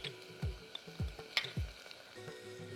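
Ginger garlic paste drops into a pan of onions fried until pink, giving a low sizzle with three soft thuds of the spoon stirring at a steady pace.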